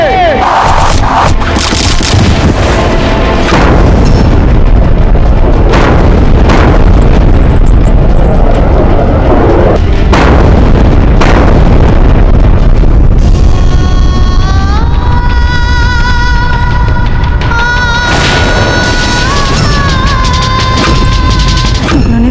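A chaotic battle din of gunfire and arrows at a fort, with booms, crashes and shouting crowds, loud and dense throughout, with sharp bursts and ringing tones later on.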